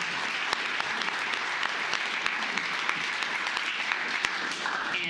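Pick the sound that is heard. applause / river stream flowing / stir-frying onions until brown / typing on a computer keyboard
applause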